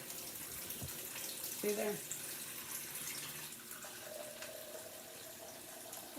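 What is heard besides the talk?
water running from a filtered kitchen faucet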